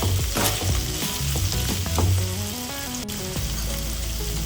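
Ivy gourd frying in a pan, a dense, continuous close sizzle with soft stirring and scraping, loud and steady throughout, no voices.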